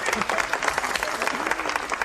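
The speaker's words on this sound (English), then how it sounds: "Sure, you can applaud for that." Studio audience applauding at a TV sketch comedy show, a dense steady wash of clapping with some crowd noise mixed in, sustained throughout.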